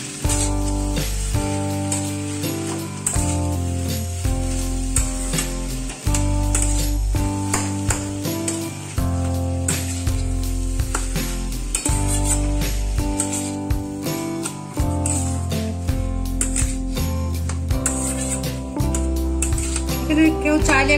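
Vegetables fry in a pan with turmeric, salt and pepper for a kids' tiffin, a steady sizzle under loud, continuous background music throughout.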